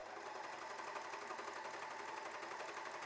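A W6 N 454D overlock sewing machine stitching and trimming stretch fabric, a steady, fast, close mechanical whir running continuously without pause.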